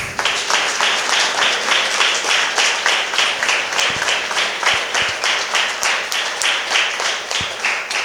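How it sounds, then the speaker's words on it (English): Sustained applause from a seated audience for the top-scoring students at a medical college white coat ceremony, dense steady clapping lasting throughout with no talk over it. "A huge round of applause for all our toppers"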